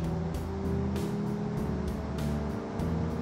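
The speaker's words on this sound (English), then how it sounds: "The engine is torquey." A torquey city car engine in the BeamNG driving game runs as a steady low drone with a faint rhythmic pulsing and slight shifts in pitch.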